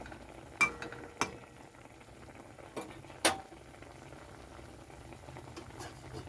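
Fish roe curry with mustard paste simmers in a pan with a low, steady bubbling, broken by four or five sharp metallic clinks of a utensil against the pan.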